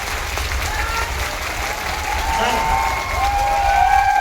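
Audience applause at a company gathering honouring a director, a steady wash of clapping mixed with crowd noise and some whistle-like tones, continuing loud throughout and building slightly toward the end.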